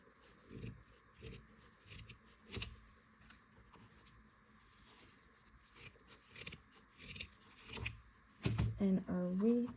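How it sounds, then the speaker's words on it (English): Scissors or wire cutters snip loose ends on a bunny wreath, a series of short crisp cuts with rustling between them, followed by a voice at the end. "And now you can just cut it with your wire cutters or your scissors, like so, and then snip off all the little loose ends you have."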